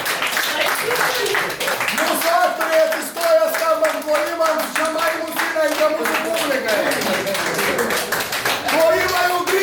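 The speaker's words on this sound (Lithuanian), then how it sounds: "Mūsų aktoriai atsistoja skambant plojimams" Guests at a wedding applaud performers as they stand, with dense, continuous clapping running the whole time, a tune or sung voice weaving through and people talking beneath it.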